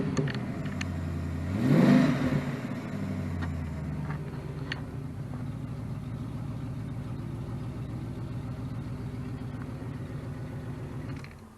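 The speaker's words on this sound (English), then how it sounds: "Another rev, why not?" Ford AU XR8 Tickford ute V8 idling with one quick rev that swells and falls back in a couple of seconds, then a steady, lumpy burbling idle close by with a light ticking, no voices.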